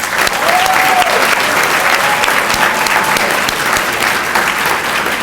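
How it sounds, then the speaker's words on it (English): Loud, sustained applause from an audience welcoming new members at a National Society of Collegiate Scholars induction ceremony at the University of South Alabama, with steady dense clapping throughout. "let's give our new members a round of applause"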